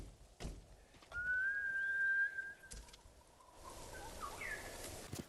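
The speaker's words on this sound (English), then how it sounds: "While riding, you'll sometimes hear the chirp of a golden songbird, considered to be a blessed creature in Tsushima." A golden songbird in the video game Ghost of Tsushima gives a thin, sliding whistled chirp, a drawn-out call followed by a shorter fainter one over soft outdoor ambience.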